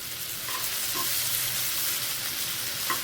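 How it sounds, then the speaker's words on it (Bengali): Brinjal and potato fry in hot oil in a pan, a loud, dense and continuous sizzle that holds steady throughout with faint clinks now and then. "এখানে বেগুন আলু দিয়ে একটা ভাজি করছি"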